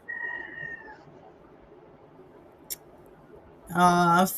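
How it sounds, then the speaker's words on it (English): A cat meows at a door. One drawn-out meow opens the clip, then a louder, harsher meow comes near the end, with quiet room noise in between. "the other kitty is still at your door"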